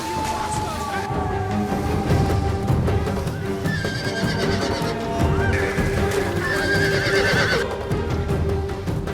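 Horses whinny and neigh repeatedly over hoof clatter and a dense battle din in a Total War game recreating the Battle of Manzikert, loud and near.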